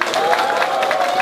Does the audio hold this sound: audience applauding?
yes